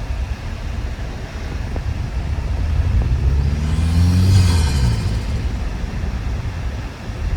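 A Toyota Tacoma pickup fitted with a snorkel and cold air intake revs up, its engine note rising and swelling to a loud peak before falling back, heard over steady road and wind rumble with a window down.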